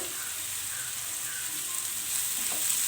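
Chopped tomato and green chillies sizzle in a hot pan while being mixed, a soft continuous frying hiss with faint scraping touches, getting a little louder toward the end, no voices.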